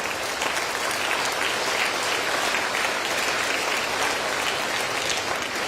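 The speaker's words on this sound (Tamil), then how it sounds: "இவ்வளவு தூரம் வந்து கைதட்டுறோம்" Dense, steady applause from a large audience fills the whole stretch, loud and even with no pauses or voices over it.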